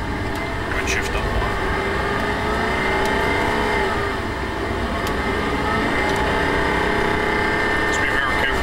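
A Lamborghini Gallardo LP560-4 on a race track at Auto Club Speedway, its engine droning steadily loud throughout with a rising pull and an upshift, heard from inside the cabin while people talk over it.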